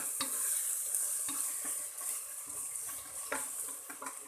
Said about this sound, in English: For 1 or 2 minutes we'll just fry it a bit, and then we'll add the mutton to it.